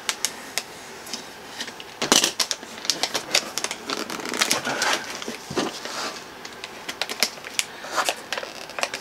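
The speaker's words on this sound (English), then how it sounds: "Got my blade. Alright, so I'm just gonna go ahead and cut it." A blade slices and tears through Hermes packaging in a quick series of sharp crackling cuts and rustles, close and fairly loud, with no talking.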